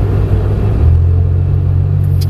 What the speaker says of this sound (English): go ahead and pull out,